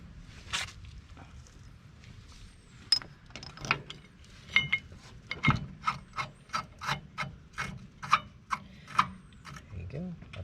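Bolts being tightened with a ratchet on the brakes of a John Deere Gator 825i utility vehicle, a quick series of close, sharp ratcheting clicks in a steady rhythm, growing louder partway through, with faint rustling between.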